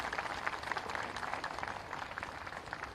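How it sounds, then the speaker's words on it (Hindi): An audience at a talk gives a sustained round of dense applause, many hands clapping steadily at moderate distance for the whole stretch with no pauses. "एक बार जोरदार ताली से दुनिया भर के मातृत्व का सम्मान करिएगा"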